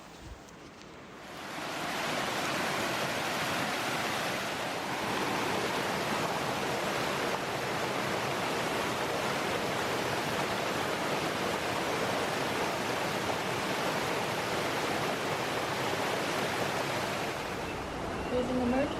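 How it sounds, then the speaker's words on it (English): A waterfall along the Hoh River trail gives a steady, full rushing roar that swells in after a second and holds evenly and close for the rest of the stretch, with no talking over it. "And there's a beautiful waterfall up there."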